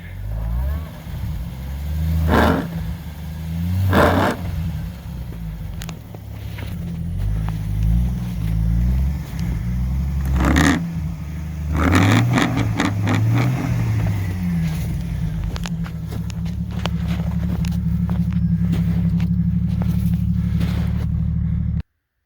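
A car revs hard as its tire spins on X Bull Generation 2 traction boards, engine whining up and down in repeated bursts with sharp spikes, running fairly loud and close for most of the stretch.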